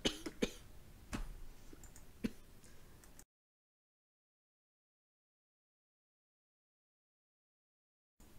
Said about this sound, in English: I was just gonna cough.